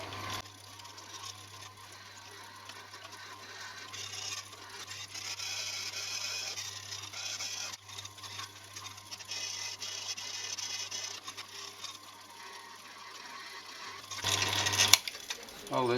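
A drill bores holes in steel for a magnetic base drill stand, a steady whirring hum with a low motor drone lasting about fourteen seconds, ending in a short burst of louder grinding and clatter.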